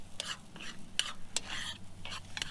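Eggs are scrambled in a pan with soft, faint sizzling and repeated scraping strokes of a utensil, close and quiet with no talking.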